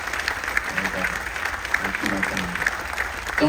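A crowd aboard the Carnival Dream cruise ship applauds during a military tribute, a steady wash of clapping with a few sharper claps near the front.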